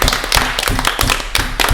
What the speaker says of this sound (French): on peut s'applaudir parce qu'on a très bien travaillé